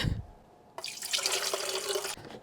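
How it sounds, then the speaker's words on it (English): Water is poured into an Almond Cow milk maker, a bright splashing gush that starts abruptly after a brief quiet moment and runs steadily for over a second before cutting off. "I just need to fill it up with water"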